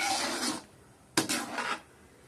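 Two bursts of scraping and rubbing as a spoon stirs curry around a pot, separated by a short pause.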